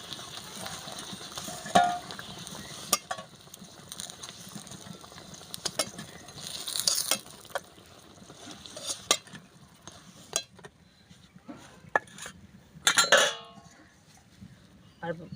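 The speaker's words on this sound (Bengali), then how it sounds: "বেগুন ভাজাগুলো তুলে নেব" Fried eggplant pieces lifted out of a pan of oil with a metal utensil, giving scattered clinks and scrapes against the pan over a low sizzle, with sharper clatters spaced through.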